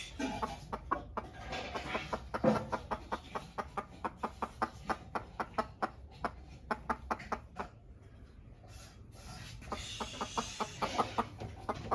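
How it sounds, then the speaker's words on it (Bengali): A hen clucks repeatedly in a cowshed where cows feed on straw and hens lay eggs on the hay, sounding as a rhythmic series of close, moderately loud clucks with a brief pause midway. "এখনো ডিম পারে না এখানে মুরগিটা আবার বসছে আমরা দেখতে পাচ্ছি"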